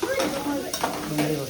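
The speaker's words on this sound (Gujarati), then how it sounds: "ડુંગળી વઘારી છે." Onion sizzling in a hot tempering of oil, a close, continuous frying hiss with stirring scrapes, while voices talk over it.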